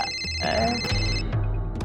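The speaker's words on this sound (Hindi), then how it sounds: "फोन फोन बजा भैया" A phone ringtone chimes with a high, steady electronic tone while people talk over it.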